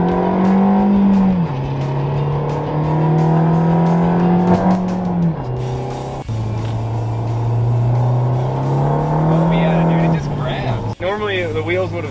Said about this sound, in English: Normally the wheels would have spun right there when I gave it throttle.